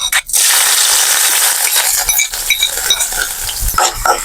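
Loud, steady sizzling of onions frying in hot oil after mustard seeds, for an anchovy fish dish, with occasional stirring scrapes and light clinks of a utensil against the pan.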